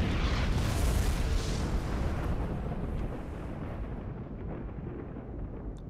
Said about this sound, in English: I'm a firing my laser